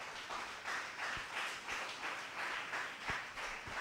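A church congregation applauds after a scripture reading. The clapping is faint and distant, a steady wash of many hands with a few louder pulses.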